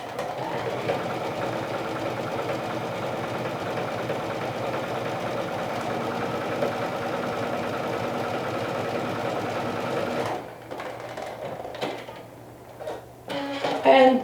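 A sewing machine runs steadily for about ten seconds with a continuous mechanical whir, then stops, followed by a few quieter handling noises.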